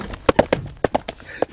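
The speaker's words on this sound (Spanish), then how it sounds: "El caballo se llama Chifle." A horse walking on a hard surface, its hooves making sharp, uneven clip-clop strikes about every tenth of a second or so, close by and fairly loud, with brief gaps between steps.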